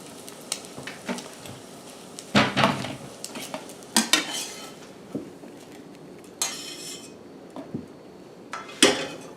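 A plate is pulled out in a kitchen while a Korean rolled egg omelette cooks, with several loud ceramic clanks and cutlery clinks over a faint pan sizzle.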